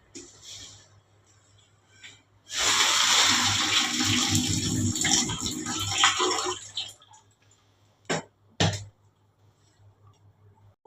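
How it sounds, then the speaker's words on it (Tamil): Cooking water is poured off boiled potatoes with a sudden loud gushing splash that runs a few seconds and then tapers off, followed by a couple of short sloshes and drips in a quiet kitchen. "நான் இதை வந்து தண்ணியை வடிச்சுக்கிடுறேன்."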